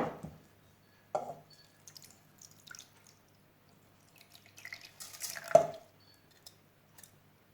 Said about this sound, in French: on va verser l'eau sale.